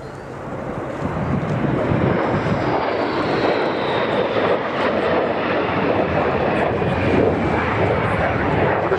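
A pair of Sukhoi Su-22 Fitter jets flying past at an air show roars steadily and loudly throughout, a broad sustained engine rumble with a faint rising whine and some wind noise.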